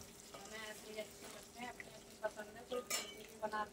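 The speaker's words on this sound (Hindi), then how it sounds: "बस थोड़ी देर तक फ्राई करेंगे, 5-4 मिनट तक" Eggs and potatoes frying in a pan, a soft steady sizzle with occasional stirring clinks and scrapes, fairly quiet and close.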